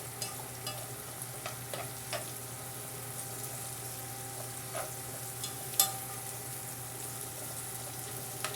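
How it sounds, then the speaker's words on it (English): Onions, carrots and celery with garlic powder, salt and pepper sizzle steadily in a soup pot over high heat, with scattered scrapes and clicks from stirring throughout. "just stirring the onions with the carrots and celery and garlic powder, salt, pepper"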